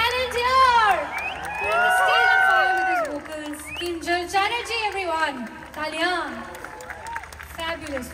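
A concert crowd in Pune cheers, whoops and shouts in loud, excited bursts, with clapping mixed in throughout.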